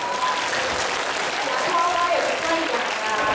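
A crowd applauds a class at a high school talent competition with sustained, dense clapping. A voice talks over it.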